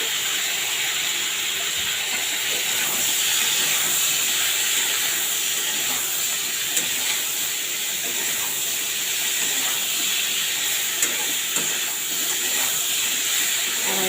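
Food frying in a pan with turmeric and salt gives a steady, dense hiss throughout, close and unbroken, with a couple of faint clicks and no talking.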